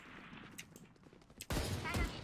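Burst of video game gunfire during an online shooter match, a loud rapid fusillade erupting halfway through and continuing to the end, after quieter game sounds and faint speech.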